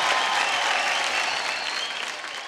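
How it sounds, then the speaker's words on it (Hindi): A studio audience applauds the top 15 contestants of Indian Idol Season 13 on a televised singing show stage, a dense, steady wash of clapping that fills the room loud and unbroken, fading slightly toward the end. "एक बार हमारे टॉप 15 के लिए जोरदार तालियां बजाएं"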